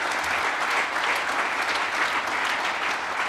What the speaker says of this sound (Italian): e ci vuole un applauso